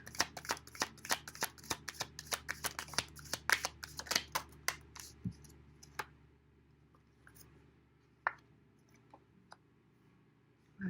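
Tarot cards being shuffled close up, a quick run of crisp riffling flicks for about five seconds, then quiet with a few isolated card taps.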